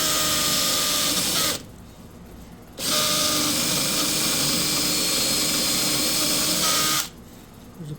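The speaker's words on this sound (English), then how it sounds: "if I drill" A power drill bores into a laminate flooring dowel bonding jig, a loud steady whine that stops briefly near the start, resumes for several seconds, then cuts out again.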